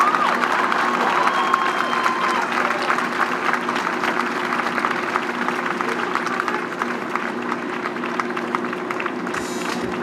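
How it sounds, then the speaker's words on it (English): Audience applause at the unveiling ceremony of 'The Embrace', a steady wash of clapping from a large outdoor crowd that holds for the full stretch with a faint murmur of voices beneath. "Let's give a round of applause to Hank, Willis, Thomas, and the whole family."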